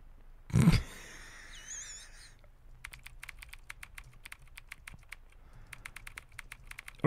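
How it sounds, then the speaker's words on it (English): Bursts of fast keystrokes clatter on a computer keyboard during a game playthrough of Entity Exam, coming in two separate runs of rapid clicks after a brief growling game sound, fairly quiet and close. "Now you all get to see how bad I am at typing."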